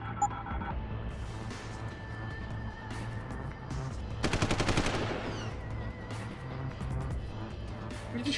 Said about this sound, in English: You're just shooting at thin air.